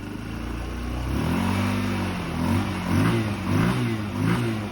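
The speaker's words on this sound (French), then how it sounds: "Ça y est, le scoot démarre, enfin." A scooter engine fires up after a carburetor vacuum hose repair, a small motor idling close by then revving in a few uneven blips over a rough, buzzing idle.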